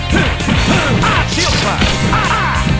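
Heavy slashing hits from a shield slash attack in a Marvel vs Capcom fighting game, a burst of loud crashing whacks and swishes repeating in quick succession over busy game effects.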